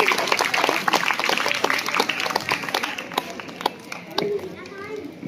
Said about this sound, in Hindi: आप तमाम ही हाजरीन से गुजारिश है ज़ोरदार तालियाँ बजाएं हमारे मेहमानान के लिए।